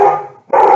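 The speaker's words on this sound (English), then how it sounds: "My dogs just mostly they have barked a few times" A dog barks in two loud, close bursts separated by a brief near-silent gap, the second bark sharp and full.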